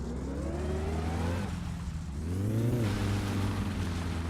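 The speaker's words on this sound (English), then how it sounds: "jump in the car and go for a little drive over to the farm" A car in the My Summer Car video game drives along with its engine revving, pitch climbing as it accelerates, easing off, then revving up again, close and steady.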